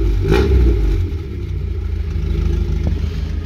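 Deep, throaty exhaust of a Volkswagen Caribe GT, loud and close: a short rev early on, then a steady low rumble at idle continuing to the end.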